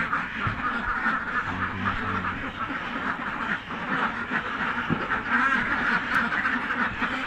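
A flock of egg-laying ducks quacking on a duck farm, a dense, continuous chorus of overlapping nasal calls close by, with faint background talk mixed in.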